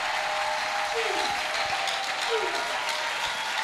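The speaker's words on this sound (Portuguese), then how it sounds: "Aplauda para o Senhor." A church congregation claps steadily through a communion service, a dense wash of applause filling the space throughout, with a faint voice calling out over it.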